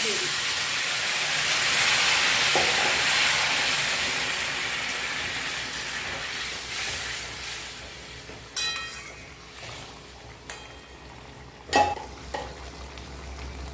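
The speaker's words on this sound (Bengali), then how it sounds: "গ্রেভি আমার ফুটে গেছে এবারে ঝোলটা দিয়ে দিচ্ছি" Gravy bubbles and hisses in a pan, a steady sizzle that fades gradually, with a few sharp clinks and scrapes of stirring near the end.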